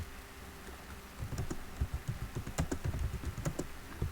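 Quiet typing on a computer keyboard, starting sparse and turning into a fast, irregular run of close key clicks with no talking.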